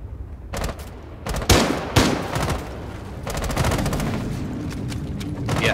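Rapid automatic gunfire rattles through a Siege shootout in a video game, several loud bursts and single cracks separated by short pauses, close and punchy with no talking.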